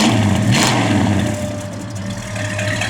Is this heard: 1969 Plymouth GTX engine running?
yes